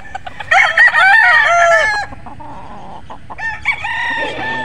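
A six-month-old Boston Gilmore gamefowl rooster crows loudly and close up in one long cock-a-doodle-doo, then follows with a few shorter clucking calls.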